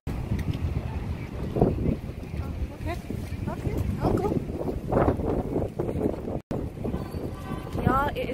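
Strong, steady wind buffeting the microphone with a constant low roar on a New York City street, while a person talks close up throughout.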